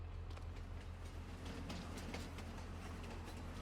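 A train rolls past in Farming Simulator 22 as a steady low rumble with a faint rhythmic rattle of wheels on track, continuous and moderately loud throughout, with no talking.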